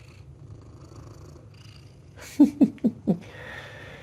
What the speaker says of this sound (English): You are just a purring machine.